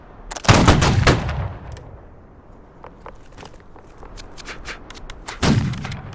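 Musket volleys in Holdfast: Nations at War, a loud ragged burst of many shots followed by scattered single cracks and a second heavy volley near the end, no talk.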